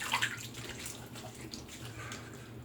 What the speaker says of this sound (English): Drain the sink.